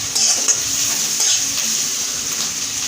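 Onions turning lightly golden sizzle in a hot pan, a loud, close and continuous hiss with small crackles and stirring movements throughout, with no voices.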